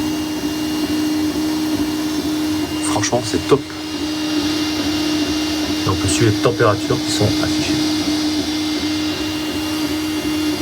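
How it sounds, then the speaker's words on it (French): A Creality Ender-3 V3 SE 3D printer hums steadily in the background with whirring motor tones, while a person talks over it nearby. "l'imprimante est en train de travailler à côté de moi"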